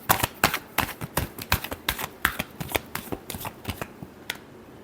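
Tarot cards are shuffled close by in a quick run of crisp, rapid slaps and riffles, a couple dozen sharp card sounds over several seconds with no talking.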